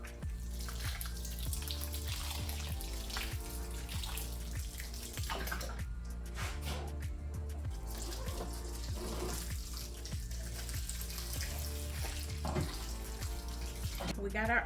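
Water pours steadily from a can onto spring onion seedlings in potting trays under grow lights, a continuous close splashing trickle with a voice speaking faintly in the background.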